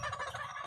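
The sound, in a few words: birds calling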